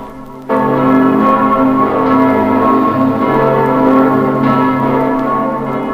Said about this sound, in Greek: ξαφνικά άκουσαν και πάλι τον ήχο της άγνωστης καμπάνας πιο καθαρά από κάθε άλλη φορά